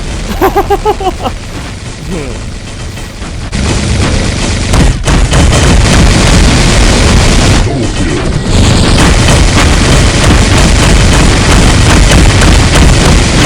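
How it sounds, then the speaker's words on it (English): Rocket explosions in a mech combat video game, a dense run of loud booms and blasts that thicken after a few seconds into sustained heavy detonations, with a voice talking over them. "those rockets do a lot of damage, though, as you will see in a minute"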